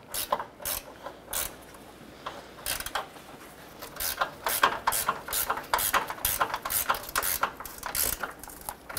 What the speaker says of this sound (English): Want to make sure all four of these bolts are tight.